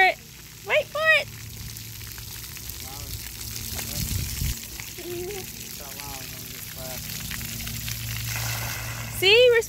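Water from a summer splash pad pours and sprays in a steady hiss. Children shout and squeal nearby, and an adult talks over it.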